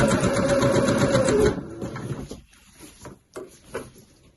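A sewing machine runs steadily while stitching around the top edge of a kid's tote bag, a loud continuous motor whir for about a second and a half, then stopping, followed by quieter fabric handling sounds.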